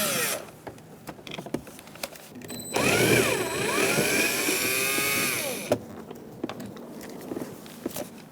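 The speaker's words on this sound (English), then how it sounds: "drill bit or a Phillips screwdriver and take out these two screws" A power driver whirs for about three seconds removing screws from a 2004-2009 Mazda 3 rear door, its pitch rising and falling, between quiet clicks and handling noises close by.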